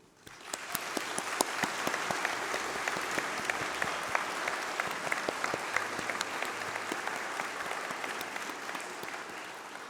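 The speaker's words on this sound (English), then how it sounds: "let's have a round of applause for all those special people, your family, your friends, your tutors" Applause at a UCLan university graduation ceremony for graduates' families, friends and tutors, a large hall of dense, sustained clapping that swells quickly and holds steady with crisp individual claps standing out.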